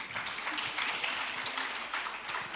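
An audience at a gender impact investment summit applauds, a soft, steady patter of many hands clapping at a moderate distance, continuous throughout.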